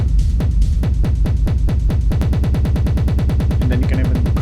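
A pounding techno kick pattern suddenly stutters into rapid, repeating chopped hits from a beat repeat effect, a loud scattered glitch.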